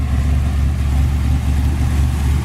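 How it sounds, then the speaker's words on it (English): A 1963 Chevy Impala with an original R-code 327 250-horsepower V8 rumbles at a steady idle through a stainless steel dual exhaust, deep, close and continuous. "Absolutely beautiful sounding stainless steel dual exhaust"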